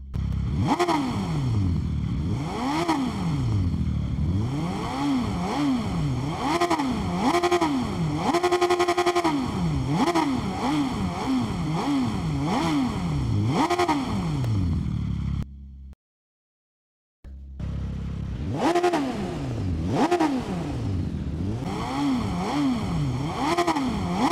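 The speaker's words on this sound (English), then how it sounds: "Let's check this baby out and see what it's like. Rev her up." Motorcycle engine in the video game Ride 5 on PS5, revving repeatedly in loud rising and falling sweeps, cut by a brief silence before the revving resumes, with no talking.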